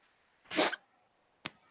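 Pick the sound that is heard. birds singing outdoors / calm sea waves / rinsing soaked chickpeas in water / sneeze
sneeze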